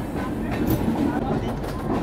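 Suvidha Express train standing at Patna Junction, heard as a steady low rumble with faint rail clatter and station noise; someone talks over it.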